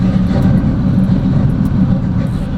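A Box Chevy engine with a choppy, lopey cam idles close by, a loud and steady low rumble that runs the whole time with no talk over it.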